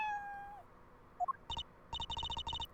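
A cat meows in the Apollo Justice video game: a gliding tonal call opens, then short chirps and a series of sharp, rhythmic synthetic blips follow, clear and alone.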